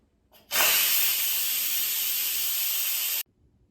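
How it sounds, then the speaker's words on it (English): A sudden, loud, steady hiss of steam rushing out of an Instant Pot pressure cooker during quick release lasts about three seconds and then cuts off abruptly. "so let's quick release the steam."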